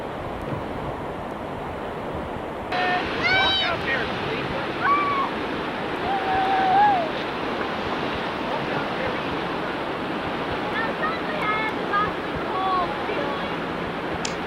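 Waves break on a sand-dune beach on the Oregon coast between Reedsport and Florence in early May, a steady loud wash of surf with wind rumble throughout and a few brief high tones over it.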